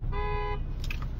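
A car horn honks once in traffic, a short clear blast of about half a second heard from inside a vehicle over low road rumble.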